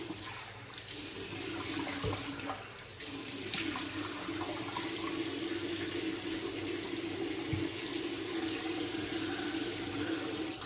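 A faucet runs in a steady, even stream into a sink as a face is wetted before lathering for a wet shave, with brief splashes and small knocks over the constant flow.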